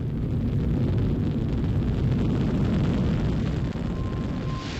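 A Titan IVB Centaur rocket lifts off from Cape Canaveral with a loud, continuous, crackling roar of deep rumble that stays powerful and steady throughout.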